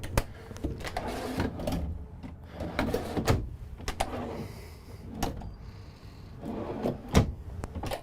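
Kitchen drawers in a 2013 Itasca Reyo 25T motorhome slide open and shut several times, each with a sharp knock or thump amid soft rattling and handling noise.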